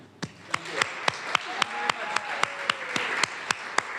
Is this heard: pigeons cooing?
no